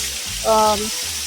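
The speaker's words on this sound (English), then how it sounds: "That's how you have to saute all the vegetables" Mixed vegetables sauté on a tawa with a steady frying hiss, while a short tonal clatter or voice-like sound briefly rises in the middle.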